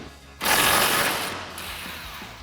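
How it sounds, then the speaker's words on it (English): An 18mm socket on a ratchet cranks out the top bolt of a sway bar end link on a Jeep Gladiator JT, a quick, close burst of rapid clicking that fades over about two seconds. "You could use an 18mm socket to remove this top bolt."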